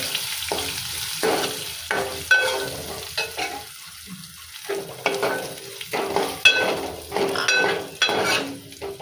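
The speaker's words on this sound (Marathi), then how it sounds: "हे पण छान थोडंसं लालसर असं सगळं भाजून घ्यायचं आहे।" Nuts such as charoli and pistachios roasting in a hot pan for rice kheer, giving a soft sizzle broken by repeated stirring scrapes and light clinks of a spoon against the pan.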